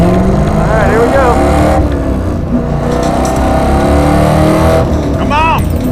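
A race car's engine drones loudly and continuously on a lap of a road-racing event, with rising and falling revs through shifts, heard from inside the car as people shout excitedly over it.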